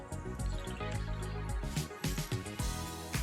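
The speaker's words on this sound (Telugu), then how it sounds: "అదే బౌల్తో నేను 2 బౌల్స్ వాటర్ వేసానండి." Water poured from a bowl into fish curry masala for Telangana-style fish curry, a steady close splashing and dripping pour with bright trickles throughout, no talk over it.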